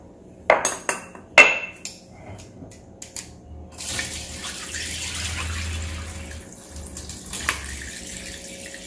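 Pickle brine from a two-day-old chayote and carrot pickle is poured off into a pot, giving a splashing, trickling liquid stream after a few sharp clinks of containers.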